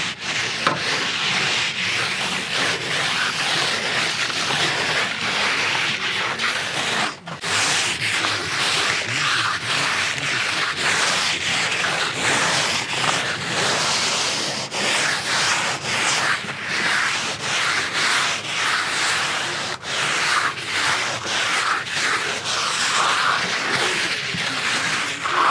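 Render being floated over a wall with a plasterer's float, giving a continuous loud, close scraping rub with steady rhythmic strokes and no talking.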